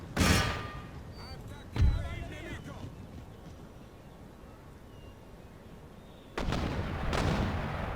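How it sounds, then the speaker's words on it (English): Mortar fire in the video game Empire: Total War: heavy booming blasts at the start and again near two seconds, then a rumbling burst of further fire toward the end over low battlefield noise. "Those mortars will absolutely butcher us."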